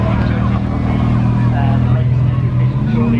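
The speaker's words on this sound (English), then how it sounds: "Maserati MC20." A Maserati MC20 supercar drives past at a classic and supercar Sunday gathering, its loud engine droning close by over crowd noise and talking.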